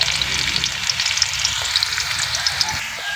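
Onion frying in a pan, a continuous close crackling sizzle with bright popping spatters scattered throughout, steady and fairly loud, with no talking.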